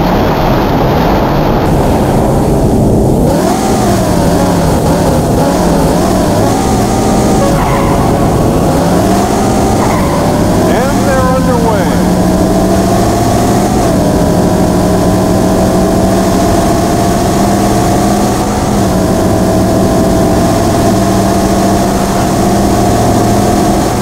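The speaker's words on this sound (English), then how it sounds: "Gentlemen, start your engine." Car engines in the arcade racing game Daytona USA start up and settle into a steady idle, a loud continuous mechanical drone that runs unbroken the whole time with no talking.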